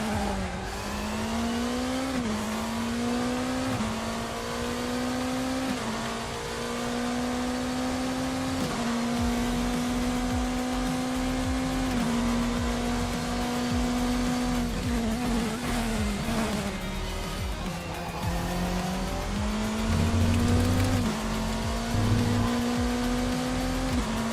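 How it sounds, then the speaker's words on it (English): A race car engine in a racing video game drones steadily, pitch sliding up and down through corners, with a faint squealing edge as the tires break free and lose grip. "once you hear the tires start to break free"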